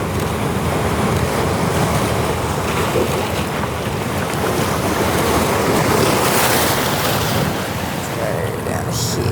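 Big ocean waves break and surge against a rocky shoreline, a continuous loud roar of churning water with wind buffeting the microphone, and a voice speaks faintly underneath.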